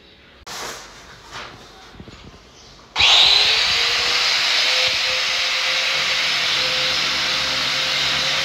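Drilling work inside a house, the room filling with dust: after a few quiet seconds with scattered knocks, a power drill kicks in loudly and holds a steady, continuous whine close by.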